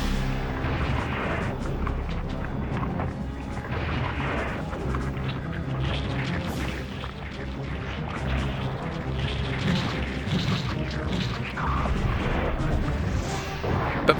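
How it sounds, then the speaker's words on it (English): Rocket launcher blasts in the PS1/PSP game Resident Evil 2, heavy continuous booming and rumbling explosions filling the whole stretch at steady loudness, with no talk. "instead we use the rocket launcher"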